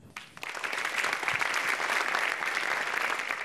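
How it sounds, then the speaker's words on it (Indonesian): A studio audience at a televised stand-up comedy open mic applauds a comedian as he is introduced, a short burst of clapping that swells quickly after a brief start and holds steady, moderately loud, without speech. "beri kita tepuk tangannya meriah"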